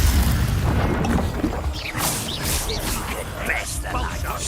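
In Hogwarts Legacy, a Confringo fire spell goes off in a few booming blasts and crashes over a busy layer of game noise, with a voice talking along.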